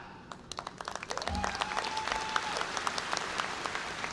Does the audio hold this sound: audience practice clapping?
yes